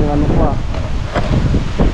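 Loud, gusty wind roars and buffets the microphone throughout, with a voice briefly speaking under the rushing noise.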